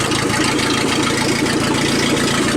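A 1988 Dodge Dakota with a 2.2 liter engine runs with its muffler loose, effectively straight-piped, giving a loud, steady, close exhaust drone with a fast, even low pulse.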